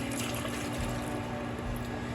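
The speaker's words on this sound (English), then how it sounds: "You're going to take your root beer and beef broth. You're going to pour it in a pan." Root beer and beef broth pour into a pan as a continuous, close liquid gush lasting a couple of seconds, with no talking.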